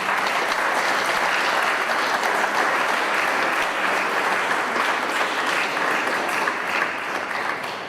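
Spectators at a men's senior softball final give sustained, loud applause for both players, a dense continuous clapping that tapers slightly at the end.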